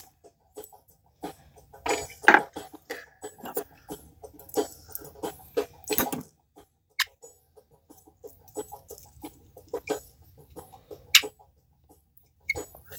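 Hot pink fly-tying thread chirping as it winds off a bobbin onto a hook, a series of short, sharp squeaky chirps and scratches in irregular bursts over near silence, close and fairly loud.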